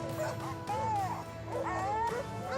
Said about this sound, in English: When the dogs detect a wild pig, they will typically signal their discovery by barking loudly